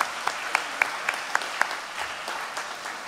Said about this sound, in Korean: 서로 격려의 박수 하도록 하겠습니다